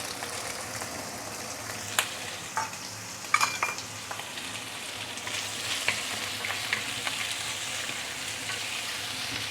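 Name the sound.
frying marinated meat and prawns for mee sua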